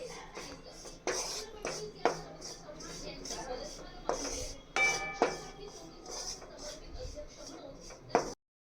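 Poha flour being roasted in ghee and stirred constantly in a pan, heard as repeated scraping and clinking of a spoon against the pan with a soft background hiss.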